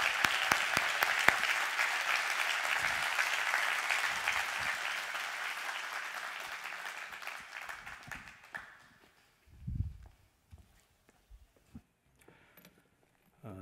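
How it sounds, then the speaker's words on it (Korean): Church congregation applauding at a pastor ordination ceremony, a sustained burst of clapping that fades out after several seconds, followed by quiet room sounds and a few scattered knocks. "우리 박윤화 목사님 나오실 때에 큰 박수로 좀 환영해 주시고 감사의 박수를"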